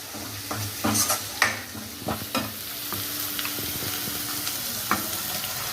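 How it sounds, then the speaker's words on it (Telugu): Tomato paste and turmeric sizzling in a pan after ginger paste, with frequent scraping stirs and clinks over a constant frying hiss, close and without talking. "పసుపు వేసి కలిపినాక ఇప్పుడు టమాటా పేస్ట్ వేస్తా"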